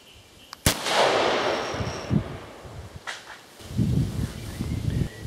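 A 6.5 Creedmoor rifle fitted with a T2 Terminator muzzle brake with an enlarged through hole fires a single loud, sharp shot outdoors, followed by a long rumbling decay and then rustling and handling noises.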